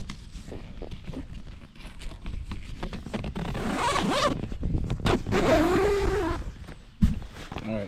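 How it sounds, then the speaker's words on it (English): A zipper is drawn open along the fabric door of a TideWe 300D see-through hunting ground blind, several long ripping pulls up close, broken by rustling fabric and a sharp knock near the end. "I'll just open the back up the door. I can just find the zipper."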